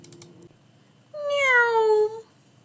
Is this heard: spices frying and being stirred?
no